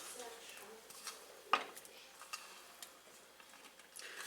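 Turkey pieces stirred into a savory sauce in a pot, with soft scraping and clinks of a spoon against the pot, faint and close, with light talk.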